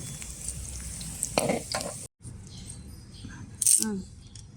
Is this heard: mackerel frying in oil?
yes